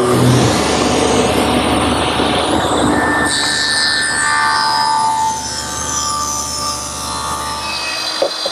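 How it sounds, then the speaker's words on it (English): A router fitted with a dovetailing bit and guide collar runs in a dovetailing jig cutting drawer tails, a loud, high whining motor with shifting pitch as the cut proceeds, winding down near the end. "Now using my dovetailing jig and my router, which is set up with a dovetailing bit and a guide collar, I'm able to make the tails"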